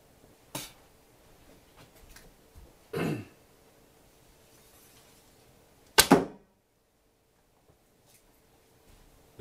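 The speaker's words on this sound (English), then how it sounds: "when the arrow hits dead centre in the target, it goes straight through and hits a piece of old door behind it" Arrows from a horse bow thudding into a target and striking a piece of old door behind it: three sharp, separate impacts spaced a few seconds apart, the last loudest, in a quiet outdoor setting.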